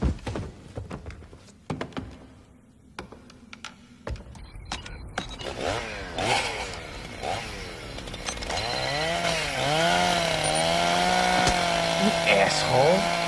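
A chainsaw starts up after several knocks and thuds, its engine revving and whining in rising and falling sweeps before settling into a loud, sustained buzzing drone that runs to the end.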